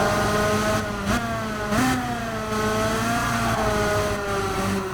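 A race car engine in the Gran Turismo 7 video game revs and drops repeatedly, a steady mid-pitched drone with brief throttle blips and gear changes, loud and continuous with no talk.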